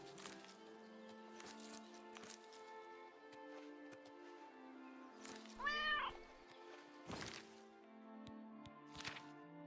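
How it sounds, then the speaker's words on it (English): A cat in bed meows once, a short rising call standing out over a quiet background with a few soft knocks and rustles around it. "you have a fun cat in bed with you."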